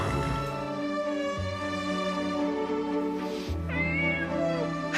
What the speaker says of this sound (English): Oh, look, Clarice, a kitty